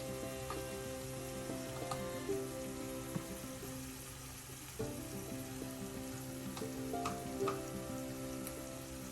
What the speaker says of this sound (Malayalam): എല്ലാം കൂടെ നന്നായി ഒന്ന് വഴറ്റാം.